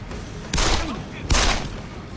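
Two loud gunshots in the video game Deus Ex: Human Revolution, spaced under a second apart, each a sharp broadband blast with a short decaying tail over steady game ambience.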